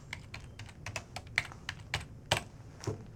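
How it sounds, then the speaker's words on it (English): Quick keystrokes on a computer keyboard, a dozen or so crisp clicks in an irregular typing rhythm, close and clear over a low background hum. "we can type."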